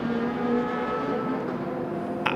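A race car engine at high RPM holds a steady, sustained drone at near-constant loudness, with a brief sharper burst near the end.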